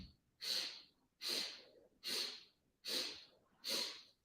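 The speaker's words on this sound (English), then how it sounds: "8 sniffs." Sharp nasal sniffing breaths during a yoga breathing exercise, five even inhalations in a steady rhythm, close and distinct with brief quiet gaps between them.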